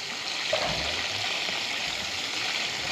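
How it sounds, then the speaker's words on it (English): Water runs through an off-grid irrigation line on steep land, fed from a lagoon, with air trapped in the pipe; it gives a steady rushing hiss and faint gurgles throughout, with no talking. "there might still be some air in the line, and that's the thing I don't know. You can hear it gurgling a little."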